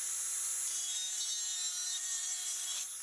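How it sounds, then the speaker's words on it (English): A steady, loud, bright grinding rasp of an angle grinder cutting through a Durapost steel fence post, continuous and close for the whole stretch with a slight dip near the end. "to cut these, we're going to be using our goggles, of course, and an angle grinder"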